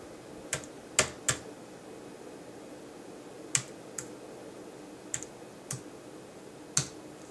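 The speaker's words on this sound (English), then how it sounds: "it wants me to type the following passcode, which I will do" Keys pressed on a simple Logitech Bluetooth keyboard while a passcode is entered during Mac Mini setup, a handful of separate sharp clicks spaced irregularly over quiet room tone.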